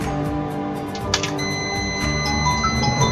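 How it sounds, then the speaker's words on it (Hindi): A multimeter in continuity mode gives a steady high-pitched beep on shorted data lines of a dead Redmi K20 Pro phone during repair, the tone running alongside a faint background hum with no talking. "डेटा नेगेटिव ये भी बीप आ रही है इधर, मतलब डेटा पॉजिटिव और डेटा नेगेटिव जो है दोनों शॉर्ट हो चुके"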